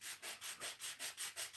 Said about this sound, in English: where was I sanding last?